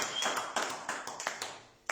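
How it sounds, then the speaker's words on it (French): A church congregation applauding during a service, a few seconds of quick hand claps that rise and fall in bursts, close and moderately loud. "Si nous pouvons applaudir pour lui"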